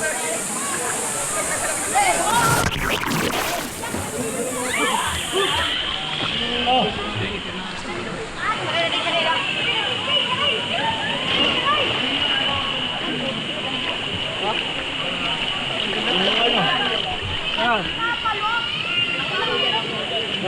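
Waves on the Dalipay river splash and rush steadily while several people talk and shout loudly over the water.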